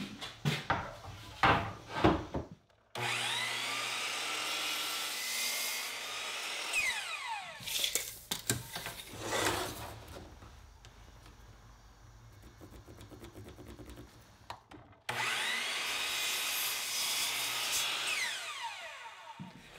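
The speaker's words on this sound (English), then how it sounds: "I'll cut the boards to length and then cut the mortise with a straight bit in the router" A handheld router with a straight bit cuts a mortise into a Sapele hardwood board for a dining table apron, a whining high-speed cut in two long bursts separated by a quieter stretch and short bumps, with no talking.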